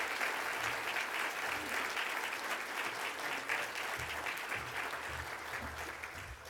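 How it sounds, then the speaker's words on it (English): Audience at an afternoon session on the future of Eastern Kentucky gives a warm round of applause, a sustained, even rattle of many hands that sounds somewhat distant and slowly tapers near the end. "let's give him an extra special warm round of applause"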